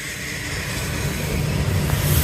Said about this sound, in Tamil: கூட்ஸ் ட்ரெயின் போயிட்டுருக்கு.